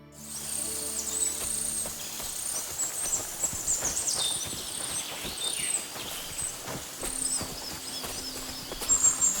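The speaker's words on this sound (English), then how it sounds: "Lovely horses you have here." Horse hooves clip-clop faintly in a medieval village in Kingdom Come Deliverance 2, irregular soft thuds under birdsong and insect-like ambience, fairly distant with no talk.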